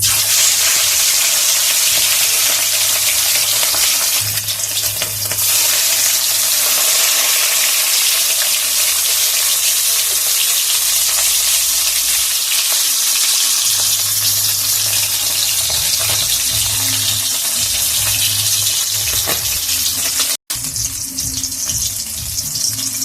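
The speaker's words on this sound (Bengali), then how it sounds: "তেলটা গরম হয়ে গেছে, মাছগুলো দিয়ে দিচ্ছি।" Bhola fish pieces fry in hot mustard oil with a loud, continuous, hissing sizzle throughout, close and steady, briefly cut off near the end.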